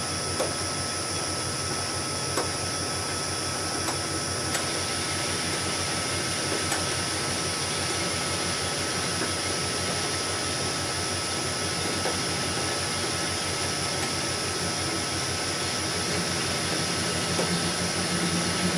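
A lathe cuts 4140 pre-hardened steel with a C6 carbide tool, producing a continuous, loud metallic whine with a chattering edge and occasional faint ticks. The sound holds steady for the whole stretch with no voices.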